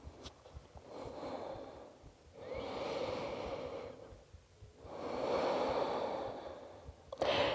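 Slow, deep breathing during a yoga stretch for the back and chest, three long soft breaths close to the ear with quiet pauses between them, ending in a short sharp exhale.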